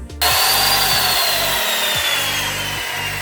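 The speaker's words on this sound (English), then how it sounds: "Sawzall. This is DeWalt, the one I got." A DeWalt Sawzall reciprocating saw kicks on after a moment of quiet and runs loud and close, its blade buzzing in a fast, rough rhythm that pulses as the motor strains.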